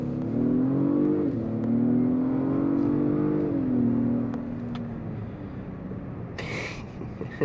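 A 2022 Acura MDX Type S engine pulls hard through a corner in S transmission mode, a steady, somewhat muted drone that rises, dips briefly and rises again before easing off, heard from inside the cabin.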